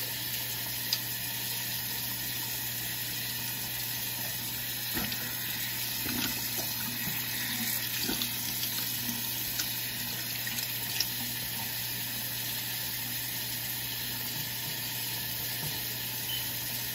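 A sink tap runs steadily for face washing, a continuous close hiss of flowing water with faint clinks and splashes, no talking.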